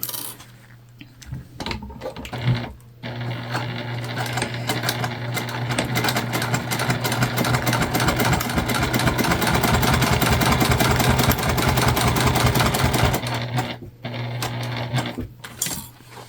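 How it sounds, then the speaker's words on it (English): Sewing machine stitching straight across the bottom of a slip pocket on a candy bag, a loud close rapid needle chatter that speeds into a sustained run, with brief pauses at the start and end. "we're going to sew all the way across the bottom, making our slip pocket bottom complete"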